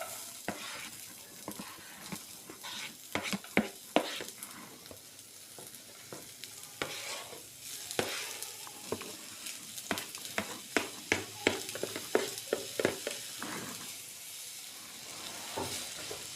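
Onions and tomatoes frying in hot oil, with scattered sharp crackles and spatula scrapes over a steady background hiss, the stirring clicks growing busier toward the end.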